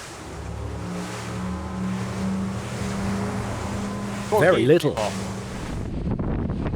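Twin 600 HP Mercury Verado outboards on a Pirelli P50 rib hold a steady low drone at 2,700 RPM and 12 knots, mixed with wind and water rush, while a voice talks over the running engines.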